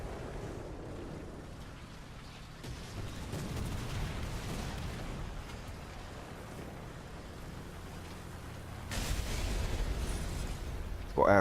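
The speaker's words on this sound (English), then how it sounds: "I'm going to continue to keep putting shells in that direction until I hit something." Tank cannon fire and battlefield explosions from a KV-1B in War Thunder, sustained low rumbling booms across the clip with a louder burst near the end, heard without speech.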